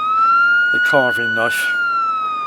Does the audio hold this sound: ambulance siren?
yes